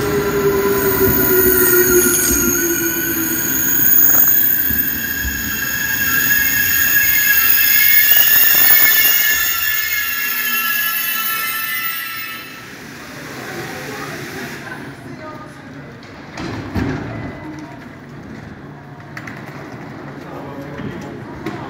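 A train rumbles along the rails with high metallic wheel squeal, loud and close, then the noise drops away as the cars pass.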